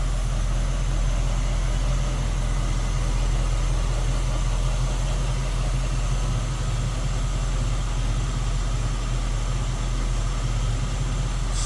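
A 1968 Chevrolet Camaro convertible sits at low idle, its engine a steady, smooth rumble that stays close and constant throughout with no voices.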